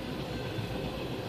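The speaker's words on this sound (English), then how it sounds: "Train going across Canandaigua Road while people on car are going wild" A train rumbles across the Canandaigua Road crossing, a steady, close rail roar with the rolling wheel noise of passing cars and no speech.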